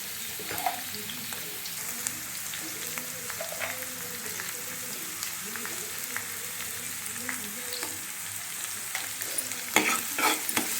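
Onions browning in oil with turmeric and salt being stirred, a steady close sizzle under repeated scraping strokes of a spatula, no voices.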